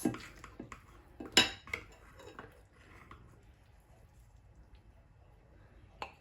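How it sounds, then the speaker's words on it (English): Baked kafta served onto a plate in a home kitchen: soft clinks of a serving utensil against dishware, a sharp clatter, then quiet scraping and light handling, fairly close and without talk. "I'm gonna serve some in a plate and show you the kafta, how it looks like."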